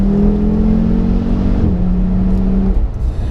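The engine of a 2014 Audi RSQ3 pulls hard in third gear, a loud steady drone that holds its pitch before settling briefly lower, heard close from inside the car with no talking.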